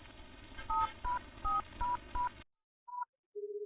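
Touch-tone telephone keys are dialed one after another, with five short DTMF beeps in a steady rhythm over faint background noise. After a brief silence comes one more tone, then a steady ringback or line tone, all close and clear.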